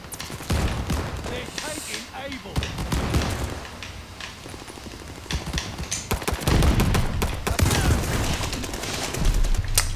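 Dense gunfire from the World War II shooter Call of Duty: Vanguard, with rapid bursts, single shots and booms crowding a busy battle mix, with a voice talking over it.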